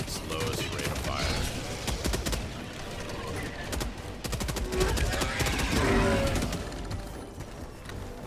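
A heavy machine gun in Helldivers 2, set to its lowest rate of fire, hammers out a long, steady string of close, loud shots with a rhythmic beat, while voices talk faintly underneath.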